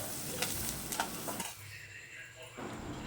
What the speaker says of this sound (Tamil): எல்லாத்தையும் வதக்கலாம்